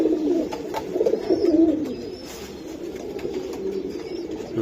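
Pigeons coo in a low, throaty, rolling murmur, several birds close by, with a few soft rustles and no talking.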